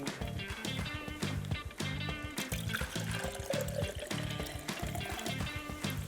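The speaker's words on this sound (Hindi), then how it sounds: "थोड़ा सा इसमें मैं पानी डालूंगी" Water splashes steadily into a pot of chicken stock for chicken fricassee, making a continuous pouring and trickling sound under rhythmic background music.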